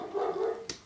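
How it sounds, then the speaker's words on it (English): A dog gives a single muffled, drawn-out bark or whine from behind a closed door, close and fairly loud, ending with a short sharp click. "I'm sorry if you can hear my dog barking"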